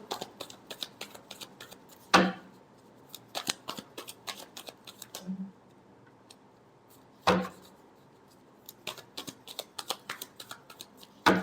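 Tarot cards are shuffled in a riffling, clicking pattern throughout, with a few louder sharp slaps spaced several seconds apart. The sounds are close up and fairly quiet, with no talking.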